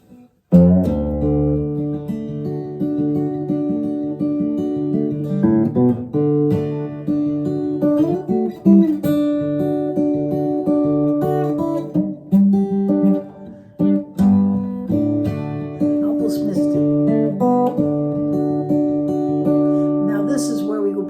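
Guitar in drop D tuning plays ringing chords and notes with a deep low string, continuous and close, with no talking.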